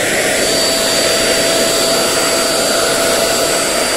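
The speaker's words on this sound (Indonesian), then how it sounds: "Ya, ini spray print painter." An electric Multipro spray gun paint sprayer rated at 430 watts, with a stainless nozzle, runs as a loud, steady motorized whir with a high airy hiss and a constant tonal whine, heard close and alone throughout.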